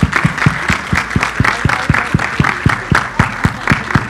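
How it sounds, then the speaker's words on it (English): At the Sarbjit film trailer launch, the audience breaks into loud, sustained applause, with sharp claps repeating in a rough, fast rhythm above a steady crowd wash. "Everybody applaud them."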